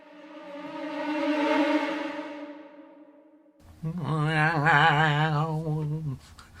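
Eerie, reverberant orchestral clusters swell and fade, followed by a wavering sustained chord that rises and then cuts off.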